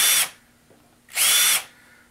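A power tool deburrs drilled holes in a 6061 aluminum milling pallet in two short, loud, high whirring bursts with a quiet gap between them.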